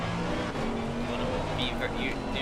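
A GT race car engine in a racing game at the Paul Ricard circuit, droning steadily through a corner with rising and falling pitch as it downshifts, under a commentator's voice.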